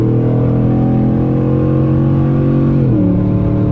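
A red Dodge Ram pickup with a 5.7-litre engine cruising on the road, its engine drone loud and close, holding a steady pitch before the revs drop sharply near the end as it shifts, no talking.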